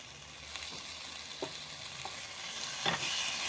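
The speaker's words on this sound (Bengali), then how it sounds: "এবার দেখুন মশলাটা সুন্দর কষানো হয়ে গেছে" Spice masala for fish cutlets frying in oil in a pan, a steady soft sizzle with a few scraping stirs, close and fairly quiet, no voices.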